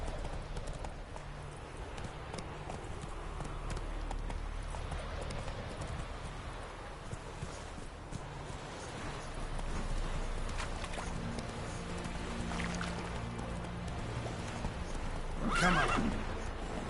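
Roach, the horse in The Witcher 3, gallops with fast, continuous hoofbeats under a steady wash of game ambience, then lets out a sharp whinny near the end.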